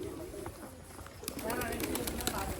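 Pigeon cooing in a village setting, low and soft, mixed with people talking and outdoor background noise.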